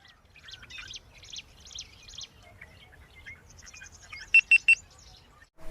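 Small birds, likely sparrows, chirp in bursts in a Madurai district setting, faint twittering followed by three louder sharp calls near the end, with a low background rumble.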